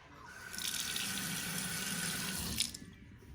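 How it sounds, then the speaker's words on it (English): Water runs steadily from a smart kitchen faucet into a sink, a close, continuous splashing rush that starts abruptly and then cuts off, with no voices. "Even the faucet is a smart faucet."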